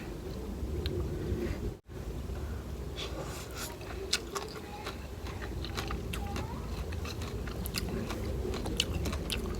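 Someone eats seafood papaya salad behind a house, with close, soft crunching and chewing bites repeating steadily over a quiet background.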